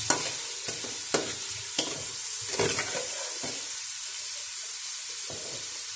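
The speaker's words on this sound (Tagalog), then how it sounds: "ginisa ko muna or naggisa muna ako ng bawang, sibuyas, kamatis" Garlic, onion and tomato sauté in a hot pan with a bright, steady hiss, broken by a few sharp clacks of a utensil, and no voices.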